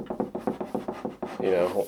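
A metal climbing stick rubs rhythmically against wood in about nine quick, soft scraping strokes, ending in a longer rougher slide, close up and fairly quiet.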